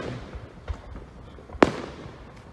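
Fourth of July fireworks go off in a park, with one sharp, loud bang standing out among fainter distant pops and crackles over a low outdoor background.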